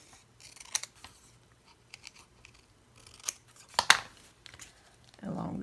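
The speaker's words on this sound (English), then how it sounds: "trim it so that the brown bag will show" Scissors snip and trim paper for a handmade snack bag book, a few sharp separate cuts close by with pauses between them and soft paper rustling, then a short burst of crinkling at the end.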